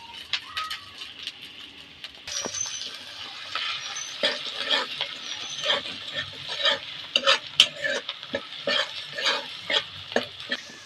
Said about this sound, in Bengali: নেড়ে টেড়ে মশলাটা একটু ভেজে নেব। পেঁয়াজটা হয়ে গেছে, আদা রসুন কুচি কিছু দিয়ে দেবো,